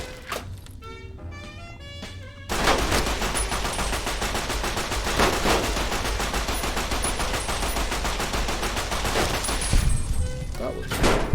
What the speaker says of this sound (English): Something else shooting there?